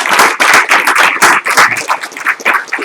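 An audience at a school board meeting claps loudly and close by, a dense burst of many hands that thins slightly toward the end.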